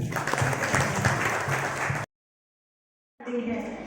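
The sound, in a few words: audience applause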